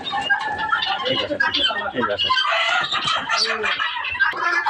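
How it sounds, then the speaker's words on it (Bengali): Guineafowl on a poultry farm keep up harsh, repeated chattering calls at close range, with other birds mixed in and someone talking over them. "এটা হচ্ছে তিতির মুরগি"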